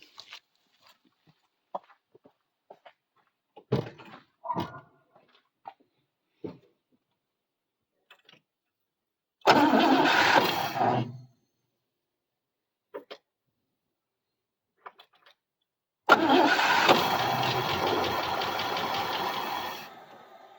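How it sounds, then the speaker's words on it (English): A 1962 Buick Skylark engine cranks with the carburetor primed: two long loud bursts of starter churning, each lasting a few seconds, separated by quiet clicks and small handling noises, with no talking. "it's definitely kicking over, wanting to run"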